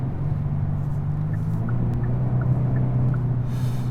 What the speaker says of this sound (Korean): 사운드 제너레이터가 작동을 하면서 이런 소리가 나고 있어요